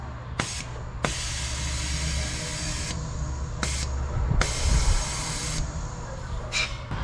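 Compressed air from an air gun blasts into an engine cylinder through the spark plug hole while checking for blue exhaust smoke, giving several loud, sharp hissing bursts of varied length separated by brief pauses over a low steady background hum.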